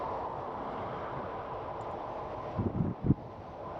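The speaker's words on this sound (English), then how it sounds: "It is really windy." Steady wind buffets the microphone on an electric bike with dual 750 W geared hub motors cruising near 29 mph, a constant broadband rush with a few louder gusts thumping near the end.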